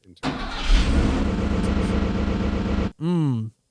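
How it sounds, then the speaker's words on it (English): A car engine roars loudly and steadily for several seconds, then cuts off, followed by a brief separate revving burst. "Put a big car engine sound over it."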